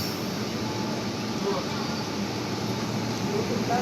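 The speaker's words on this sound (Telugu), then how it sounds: "ట్రైన్ అయితే వస్తుంది" A train approaching a level crossing on the Gudur–Chennai section, a steady low rumble and broadband roar held throughout at moderate distance, with faint talk underneath.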